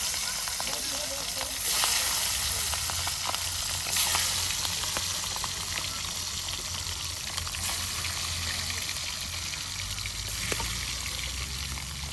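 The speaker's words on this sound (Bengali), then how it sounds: "এখানে কিন্তু এখন সেই মাংস টুকরাগুলো একদম এই যে ঝাল মরিচ দিয়ে না এই মাংসগুলো ভেজে নেওয়া হচ্ছে" Chicken pieces frying with hot chilli in a village kitchen, a continuous soft sizzle and crackle of oil that stays fairly even and moderately close, with no clear speech over it.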